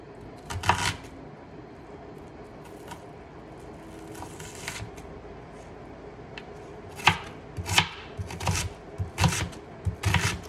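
A knife chops vegetables on a cutting board for a Greek chopped salad, scattered single cuts early, then a quicker run of sharp, close thuds toward the end.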